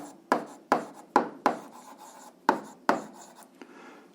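Chalk or pen strokes while working an eighth-grade algebra solution, a series of about eight sharp scratchy taps and short rubs spaced irregularly, close and fairly loud with no talking.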